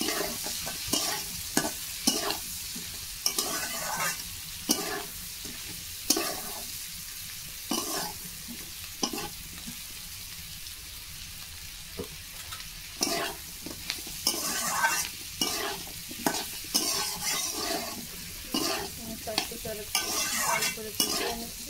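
Fig curry sautéing with turmeric in a pan, a steady sizzle broken by frequent close scrapes and stirring strokes in an uneven rhythm.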